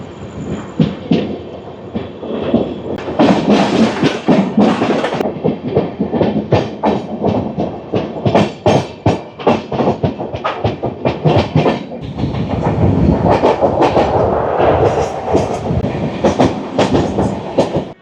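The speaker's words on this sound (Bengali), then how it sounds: "আমাদের হাওড়া রাজধানী এই ধানবাদ স্টেশন থেকে বেরোচ্ছে" The Howrah Rajdhani Express runs after leaving Dhanbad station, its wheels clattering in a steady rhythm over rail joints amid loud, continuous carriage rumble heard from on board.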